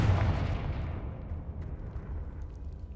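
A fire-spell blast in the video game Hogwarts Legacy booms at the start, then its deep rumble fades away over the next few seconds.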